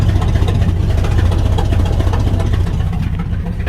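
Chevy 1-ton tow truck engine running with broken, falling-apart mufflers: a loud, steady low rumble throughout, close by and continuous with no talk.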